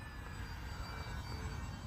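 Arrows RC Bearcat model warbird airplane flying at a steady distance, a continuous faint propeller drone with a thin high whine, no talk.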